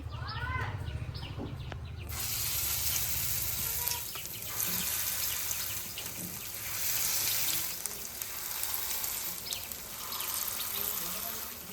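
Pieces of carp hit hot white cooking oil in a pan after a short quiet start, setting off a loud, steady, bubbling sizzle that carries on close by for the rest of the clip.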